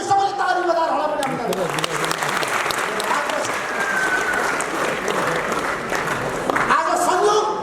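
An audience at a Nepali political gathering applauds with sustained clapping that is loud and fairly even, swelling slightly near the end, with a murmur of voices underneath.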